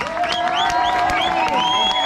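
Comedy club audience cheering and whooping, with a rising and falling whistle-like tone running through the dense crowd noise, steady and fairly loud across the short stretch.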